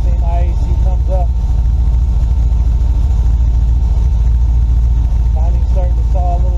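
A car engine fitted with a Holley Terminator X EFI system idles steadily in gear with the brake held, a continuous low rumble with faint intermittent voices over it.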